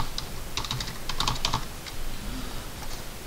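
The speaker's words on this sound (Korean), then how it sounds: "먼저 명령어는 MI 치시고, MI 엔터" A computer keyboard is tapped in a few quick bursts of light clicks at close range while a command is entered in AutoCAD, with a soft steady background hum and no speech.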